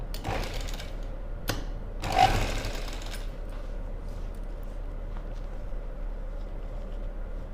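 A sewing machine stitches blouse lining in short bursts, a quick rattling run near the start and another around two seconds, then only faint low hum and scattered small clicks.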